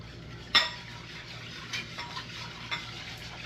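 A whisk clinks and scrapes in a pot as pectin is stirred into a pepper jelly mixture from farmer's market peppers, a sharp metallic tap followed by a few lighter scrapes over a soft background hiss.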